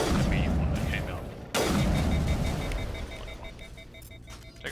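Sniper rifle fire in the Mass Effect video game: a sharp, loud shot cracks out partway through, with a dense rumble of combat and steady electronic beeping around it.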